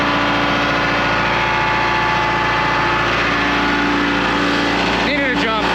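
An old GMC 3500 dually pickup's engine runs at a loud, steady idle close by, with a raspy rumble throughout and a brief burst of clattering noise near the end.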